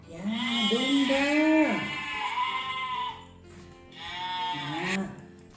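Two drawn-out bleats from a goat on a farm, the first long and wavering, the second shorter after a brief pause, loud and close with no talk over them.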